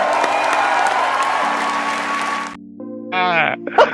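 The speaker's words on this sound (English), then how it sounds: "He's sitting there clapping." A crowd claps and applauds for a couple of seconds in a replayed clip, with a voice talking over it before it cuts off.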